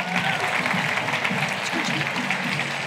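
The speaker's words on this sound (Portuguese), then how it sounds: "Uma salva de palmas para ele," A dense, loud round of applause from the audience at a student and family convention closing, continuous and close throughout the short stretch.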